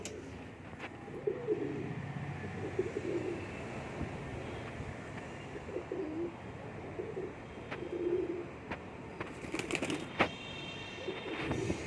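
Soft, repeated cooing of pigeons inside a rooftop loft, fairly quiet against a windy outdoor background, with occasional sharper clicks and wing or movement noises; no one speaks.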